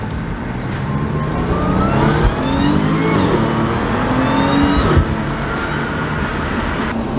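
An Audi B8 S4 with a supercharger accelerates hard from inside, its engine roaring under a rising whine that climbs through a gear, drops at a shift and climbs again, loud and steady throughout.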